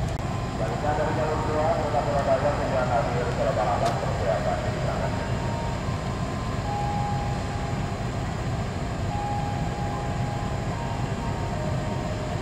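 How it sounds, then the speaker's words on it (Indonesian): At Cibatu station in Garut, West Java, the Lodaya passenger train pulls in and stops on track 3 with a steady, heavy rumble and rolling drone that holds throughout, while a voice talks over it. "Lodaya pagi berhenti di jalur 3, berhenti normal ya."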